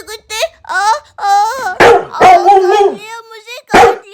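A cartoon dog barks, yips and whines in a string of loud, close outbursts while attacking, heard alone in quick rhythmic bursts.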